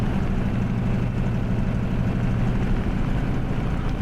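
Hellcat F6F piston engine running up on the ground in a flight simulator, a loud, steady low rumbling drone that holds evenly throughout with no clear dip, heard alone without talk.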